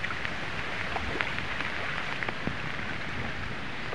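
Light rain falls steadily outdoors during Cyclone Remal, a soft even patter with scattered close drops ticking on surfaces throughout.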